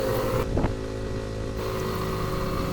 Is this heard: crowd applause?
no